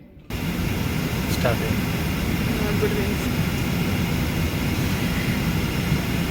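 A steady, loud airliner engine roar fills the cabin on a Bangalore to Delhi flight, continuous and unchanging, with faint voices blended into the drone.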